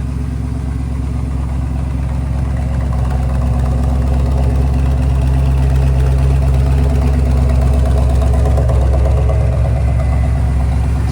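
A car fitted with a 347 engine and a new clutch cable conversion idles steadily and loudly close by, a deep continuous rumble with a lumpy, uneven beat running through the whole stretch without any talk.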